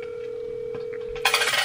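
A phone call being dialed: a steady single tone holds under faint background, then a brighter, louder burst of ringing or dial sound enters near the end, with no talk.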